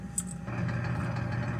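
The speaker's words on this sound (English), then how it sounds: "Engine still seems to be making a lot of noise" A spaceship engine in the space game Objects In Space hums as a steady low drone with a faint rattle, preceded by a brief high metallic jingle, loud and continuous with no talking.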